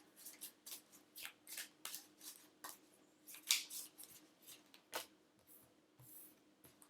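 Tarot cards being shuffled by hand, a run of soft riffling bursts and flicks in an irregular rhythm, close and fairly quiet with no talk.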